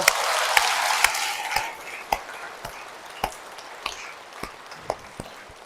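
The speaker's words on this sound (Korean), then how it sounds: "앞으로 기억하게 될 여러분을 위해서 박수 한번 쳐주세요." Applause from a church congregation fading out, scattered claps thinning to a few isolated sharp claps by the end.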